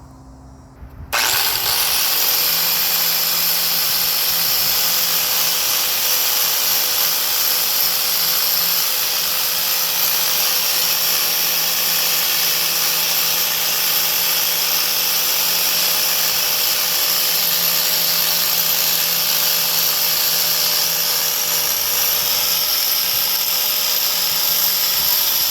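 Wire brush spun on a power tool during a Volvo wheel stud and hub repair, a loud steady high-pitched whine that starts abruptly and holds for the whole stretch with no talk.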